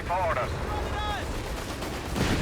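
Submachine guns fire in a Company of Heroes 3 battle as foot guards and Gurkhas advance against Fallschirmjäger, short rattling bursts mixed with battlefield noise under steady commentary throughout.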